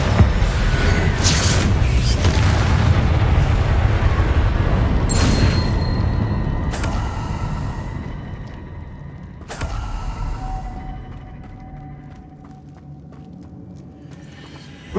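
A Confringo fire spell from Hogwarts Legacy bursts in a loud, dense blast that fades over several seconds, followed by a second, smaller explosive hit and a quieter ringing tail, with game music underneath.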